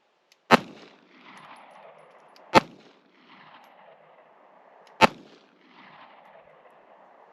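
Three sharp gunshots from a SIG Q38 pistol crack out about two seconds apart, each loud and close and followed by a short ringing tail, with quiet between the shots.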